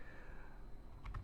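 Computer keyboard typing while writing Excel VBA code, a few quiet clicking keystrokes clustered near the end over a faint background hum, with no voices.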